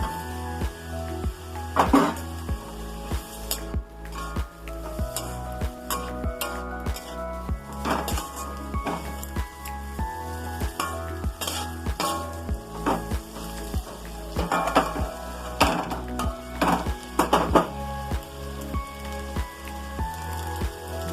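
Green beans tip into a hot pan of spiced oil for a potato and bean curry, giving a steady sizzle broken by scraping stirs and clinks of the spoon against the pan, over a continuous tonal musical backdrop.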